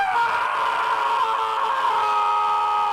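A voice actress delivers a sustained, strained rage scream for video games, open-mouthed and loud, held steadily for about three seconds close to the microphone.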